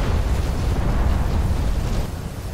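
Explosions strike mortar positions in the DCS flight simulator on the Marianas map, heard as a dense, continuous rumbling roar of blasts with heavy low-end boom, loud and sustained without voices.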